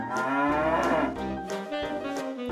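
A cow moos in a long, loud, tonal call close by, the lowing held steady and then wavering toward the end.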